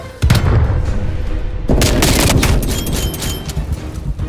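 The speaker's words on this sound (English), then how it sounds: "Throwing grenade!" Grenade explosions and gunfire in the video game Call of Duty Cold War, two heavy booming blasts with rattling shots and rumbling debris, loud and close, without talk.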